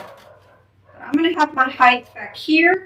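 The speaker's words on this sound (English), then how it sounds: "if you guys hear Diesel barking" Diesel, a dog, barks outside in short yelps that sit under a nearby speaking voice in an indoor craft setting.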